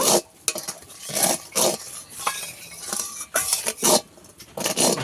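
A spoon stirs sugar into milk in a metal pan for a semolina milk cake, making close, rhythmic scraping and clinking strokes in repeated bursts with short pauses between them.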